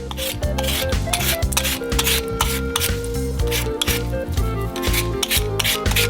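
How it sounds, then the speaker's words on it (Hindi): Potatoes are scrubbed clean of dirt by hand in a sink of water, producing rhythmic, repeated rasping rub strokes close up with no voices. "प्रत्येक आलू को गंद से साफ करेंगे"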